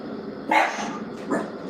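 A dog barks twice in quick succession, fairly close and distinct, against a quiet room background.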